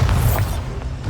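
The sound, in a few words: Incendio fire spell cast in Hogwarts Legacy video game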